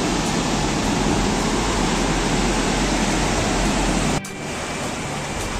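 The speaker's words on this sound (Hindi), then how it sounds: "प्रेशर देखो दोस्तों पानी का," Water rushing through open gates of a working hydro dam in Doraha, Punjab, a loud, steady broadband roar that drops abruptly to a lower level near the end.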